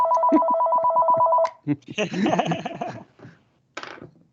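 A phone rings close by with a rapid warbling trill for about a second and a half, then chatter and laughter follow.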